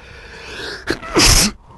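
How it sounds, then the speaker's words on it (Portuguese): A single loud, sharp sneeze with a quick intake of breath before it, close to the listener, followed by brief quiet. "Tive um espirro aqui."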